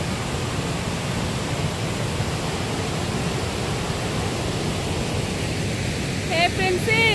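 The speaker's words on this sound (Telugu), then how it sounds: "ఈ టైంలో చాలా బాగుంటుంది వాటర్ ఫాల్" Polluru waterfall at Sileru, in green forest, roars as a steady, broad rush of falling water throughout, with a faint voice briefly heard near the end.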